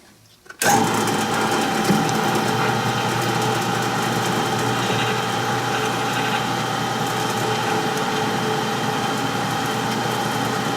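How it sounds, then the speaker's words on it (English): A steady mechanical whine and drone starts abruptly and runs continuously at high volume, a previously broken drill bit on a mini excavator grinding into material, with no talking. "Let's see if this bit that was broken will drill again."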